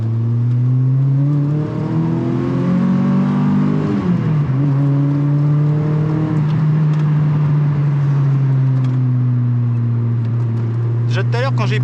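A Volkswagen Golf 2 GTI driven close up in winter, its engine note climbing through gears as it accelerates, with a brief dip and a strong steady drone afterward, while someone talks over it.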